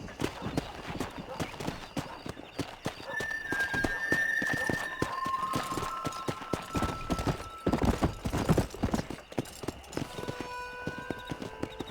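Horse hooves clip-clop at a steady gallop while riding in the Red Dead Redemption video game on PC, with a whinny and a voice calling out over the rhythmic beat.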